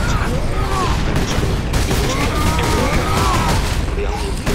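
Sustained gunfire and explosions from the Space Marine video game, a dense unbroken barrage with booms, heard under a voice talking throughout.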